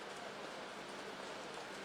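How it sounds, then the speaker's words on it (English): Heavy rain pours steadily during a rugby match between Namibia and Zambia, a dense, even hiss of countless drops with no breaks across the stretch, loud and close. "under these heavy rain conditions"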